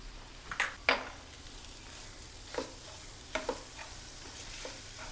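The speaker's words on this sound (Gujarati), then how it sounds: "તો પાલક નાખી છે તો આપણે એને સતત 2 મિનિટ માટે હલાવતા રહી અને એને સોતળી લેવાની છે" Chopped spinach sautés in a little oil in a pan while a spoon stirs it. Light sizzling runs under a few sharp scrapes and clinks, close up and quiet, with no voices.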